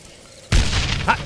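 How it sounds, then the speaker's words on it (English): Stick grenade exploding in the video game Darkest of Days, a single sudden loud boom that cuts in and rolls on as a sustained rumbling blast with crackling debris. "These are standard issue stick grenades. Just aim and let them fly."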